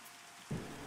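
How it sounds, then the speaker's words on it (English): Steady rain falls in the fantasy game Pantheon: Rise of the Fallen, a soft broadband hiss that swells into a heavier, louder patter halfway through this brief moment, with no voices. "Nasty rain."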